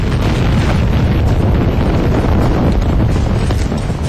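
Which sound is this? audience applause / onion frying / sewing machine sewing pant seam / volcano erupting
volcano erupting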